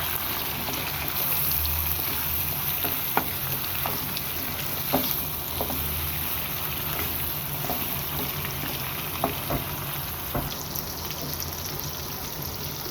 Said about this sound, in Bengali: এখন আমি সবগুলো উপকরণকে ভালো করে নেড়ে ছেড়ে মিক্স করে নিব